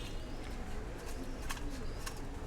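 Pigeons kept on a rooftop, nesting in pots, coo softly in the distance under a steady wash of background noise, with a few brief higher chirps.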